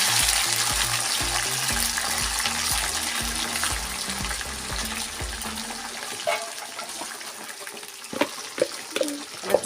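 Soaked pickle pieces go into hot oil with mustard seeds and curry leaves, a continuous close sizzle and bubbling fry with some stirring clatter toward the end.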